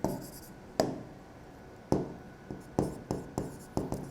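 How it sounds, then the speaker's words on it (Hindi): A pen scratching across a board or tablet in a biology lecture, with separate strokes that start sharply and fade, spaced irregularly and then coming faster toward the end, close and alone. "या ब्लू से लिख दूँ मैं इसको"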